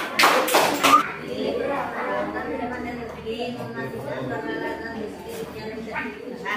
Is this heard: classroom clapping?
yes